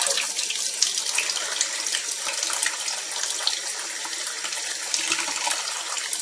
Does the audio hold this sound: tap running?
yes